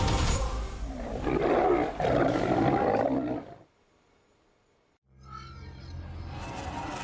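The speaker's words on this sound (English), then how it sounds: "a distant roar echoes like a silent declaration" A male lion on the savannah lets out a deep, rumbling roar that swells and holds for several seconds, breaks off into near silence, then starts a fresh rumbling call, loud and close.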